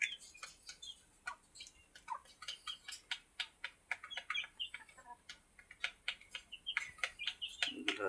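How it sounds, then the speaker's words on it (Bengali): A flock of desi roosters and hens clucks and chirps in a steady, busy stream of short calls, close by with no talk. "এখানে আছে হচ্ছে আমার সেই দেশি মোরগ মুরগি"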